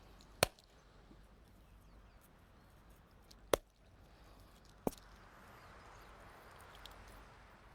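A stone strikes a coconut to crack it open during a resort demonstration in Hawaii, giving three sharp, isolated knocks a few seconds apart, close and clear against a quiet background.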